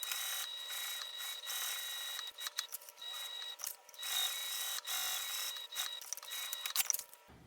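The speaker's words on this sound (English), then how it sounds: "I'm just going to sew 1/8 of an inch all the way around this webbing." A sewing machine stitches around webbing on a fabric lunch tote, a steady close mechanical whir broken by brief pauses and rattling bursts, with no talking.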